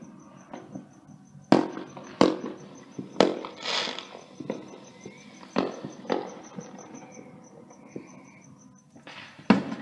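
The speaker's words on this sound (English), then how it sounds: "More fireworks sightings." Fourth of July fireworks bursting outdoors in 2015: a string of sharp, loud bangs and crackles at irregular intervals, some close together, with a faint background hum between blasts.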